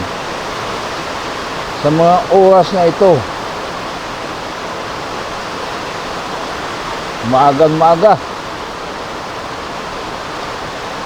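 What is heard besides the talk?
heavy rain before a typhoon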